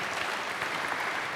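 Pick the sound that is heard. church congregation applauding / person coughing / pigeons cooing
church congregation applauding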